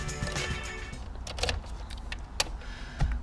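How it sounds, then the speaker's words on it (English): A BMW E30 is switched on in a garage during interior reassembly, with close mechanical whirs, clicks and a few sharp taps over a steady low rumble, with no talk. "let's turn the car on and make sure this gauge cluster actually works"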